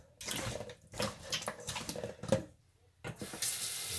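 Kitchen tap running while hands are rinsed after seasoning oxtail, splashing water in uneven bursts with brief pauses, a short gap near the end before the flow resumes, fairly close and fairly quiet.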